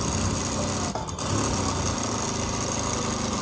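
A sewing machine stitches a lined blouse with a steady, close mechanical whir that breaks off briefly near the start before running on evenly.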